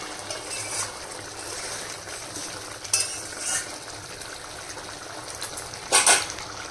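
A potato and pointed gourd curry with prawns simmers down in a pan, giving a low bubbling sizzle with a few brief stirring scrapes, one around the middle and a louder pair near the end.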